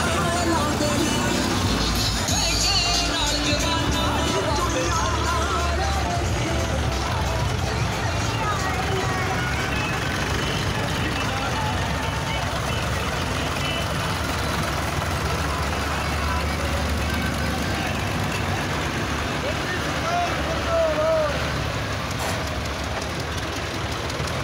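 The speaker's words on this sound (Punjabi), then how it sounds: "ਟਰੈਕਟਰ ਮਾਰਚ ਪਿੰਡ ਮਹਾਲਾ ਦੇ ਵੱਲ ਨੂੰ ਜਾਂਦਾ ਹੋਇਆ" A tractor march rolls through the village of Mahala, with a continuous loud, rumbling drone of engines and road noise that holds steady throughout and does not let up.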